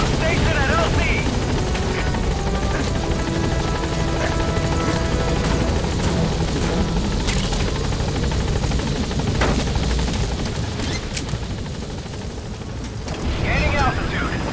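A helicopter in the video game Metal Gear Solid V hovers close and loud with steady rotor roar throughout, while radio-style voices speak over it.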